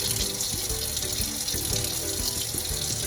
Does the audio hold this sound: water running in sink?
yes